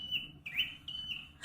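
A small bird chirps nearby in bamboo, several short high tweets in quick succession with brief pauses, clear over quiet background.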